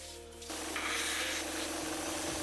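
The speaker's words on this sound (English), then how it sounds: "More sanding, more shaping." A power sander grinds steadily against a white-water paddle blade, a loud continuous abrasive whir that starts abruptly and holds.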